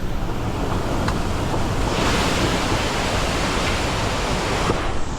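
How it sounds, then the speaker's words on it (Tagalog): Heavy typhoon rain and strong wind roar as a dense, constant wash of noise, steady and loud throughout with no voices, in the Philippines. "ang lakas ng ulan at hangin oh"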